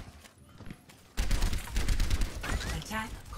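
Rapid bursts of gunfire in a Blizzard World video game level, starting abruptly after a quieter opening and continuing as dense rattling shots with scattered impacts and chimes.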